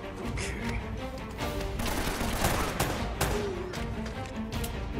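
Dense, continuous gunfire from Uncharted: Drake's Fortune, a steady rattling barrage of overlapping shots with a few sharper cracks standing out, sustained and fairly loud throughout with no clear pauses.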